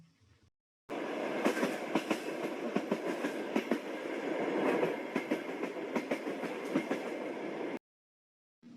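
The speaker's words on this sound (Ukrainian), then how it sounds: "Отже, зробимо поїзд і вирушаємо." A recorded train plays for a pretend train ride: steady rumbling rolling noise with rhythmic clickety-clack of wagon wheels, moderately loud, starting and stopping abruptly.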